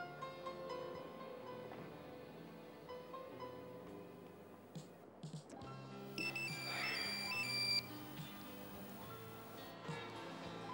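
A mobile phone rings in a domestic scene from an Egyptian TV drama, a bright electronic ringtone rising briefly over low background sound with faint movement, heard for a couple of seconds.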